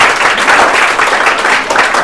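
Classroom audience bursts into brief, dense applause, steady loud clapping from many hands throughout.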